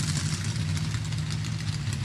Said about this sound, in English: You can hear the very vast difference in engine tone.